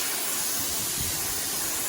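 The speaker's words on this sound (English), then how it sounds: "take your water hose or pressure washer gun, whichever one you're using, and spray off the excess" A pressure washer gun sprays water across an RV roof, a steady, dense, loud hiss that runs unbroken from start to finish.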